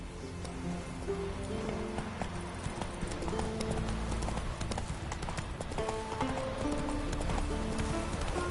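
Hooves of the horse Roach in The Witcher 3 clip-clop at a steady galloping rhythm throughout, loud and continuous, with game music and ambience underneath and a brief whinny.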